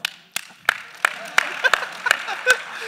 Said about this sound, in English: I love the forced round of applause where you're looking at everyone.